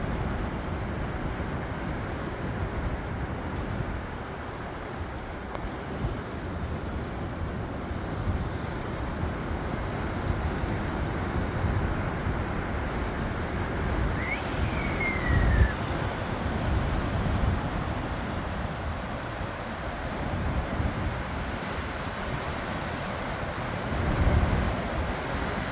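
Cold ocean surf pounds the rocky shore at Chetco Point in Brookings, Oregon, a steady, dense roar of breaking waves mixed with wind buffeting the microphone, swelling slightly near the end.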